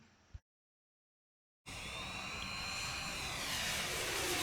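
An RC Spitfire model airplane's engine droning in flight, cutting in loud after a short silence and holding a steady, slightly shifting whine, alone without talk.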